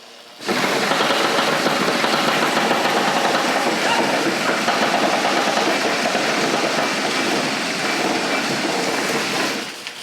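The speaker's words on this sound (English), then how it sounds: "cranking up the conveyor belt" A homemade conveyor belt cranks and runs with a steady, loud mechanical whir and rattle that starts abruptly and holds for about nine seconds before stopping.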